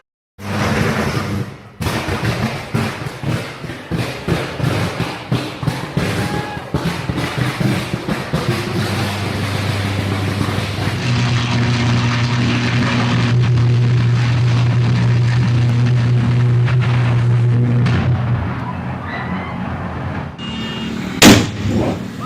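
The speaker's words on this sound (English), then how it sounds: "The buildings were full of electrical transformers. This is what they sound like when they explode." Electrical transformers exploding inside burning buildings: roaring fire with repeated sharp bangs and crackling bursts, loud and close, a low droning hum swelling in the middle and a final sharp blast near the end.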